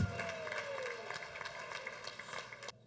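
Wedding guests at a church-style ceremony clap in a dense, continuous patter that fills the whole short stretch and then stops abruptly, with a voice faintly present underneath.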